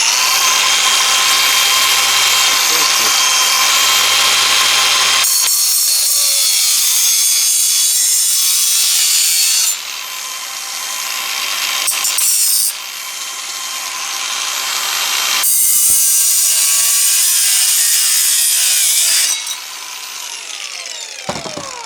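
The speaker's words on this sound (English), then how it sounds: "And then I start my Makita in this switch." A Makita power tool cuts into a broken plastic car mask grill in loud, harsh bursts, cutting off and restarting several times with short quieter gaps between the runs.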